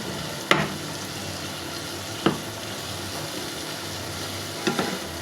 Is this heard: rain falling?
no